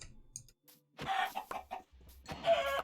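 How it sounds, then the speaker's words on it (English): Chickens in Minecraft Bedrock making short, choppy clucks in several separate bursts with quiet gaps between them, fairly close and with no talking over them. "Those are chickens."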